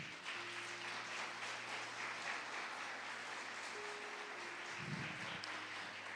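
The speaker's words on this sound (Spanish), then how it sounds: "denle aplauso al Señor" A church congregation applauds in a soft, steady wash of clapping that sounds somewhat distant and fairly faint, with a low sustained hum underneath.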